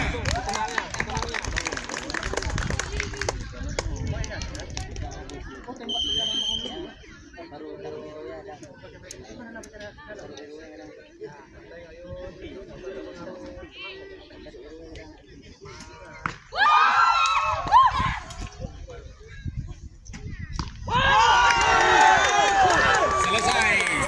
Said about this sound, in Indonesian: Kita beri aplaus untuk para pemanah.